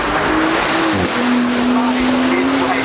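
A 4-litre twin-turbo hybrid car passes at Goodwood, its loud engine note dipping briefly then holding a steady high drone close by, with tyre noise and crowd sound beneath.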